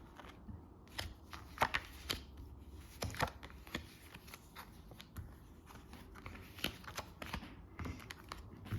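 A deck of tarot cards being cut and handled, soft papery slaps and riffles in scattered bursts, close and fairly quiet.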